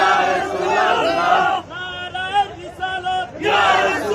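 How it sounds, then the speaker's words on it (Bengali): A large crowd at a rally celebrating the Prophet's birthday in Dharmanagar chants the takbir together, loud massed voices in rising call-and-response bursts with a sustained roar at the start and end. "আবার একটু সবাই মিলে তাকবীর দেওয়া যাক।"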